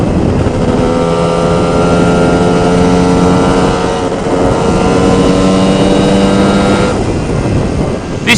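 A Lambretta Series 1 scooter with an MMW KillerCase 260 Simonini engine, running while pulling into the wind: a loud, steady engine drone that holds close throughout with slight shifts in pitch. No one speaks.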